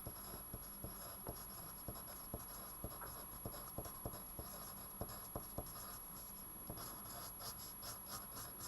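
A pen writes a short title on paper, faint close scratching strokes in quick irregular bursts with small taps between them, and no voices.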